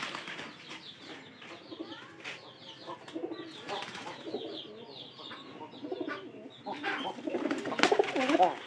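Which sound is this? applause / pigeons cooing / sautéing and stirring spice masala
pigeons cooing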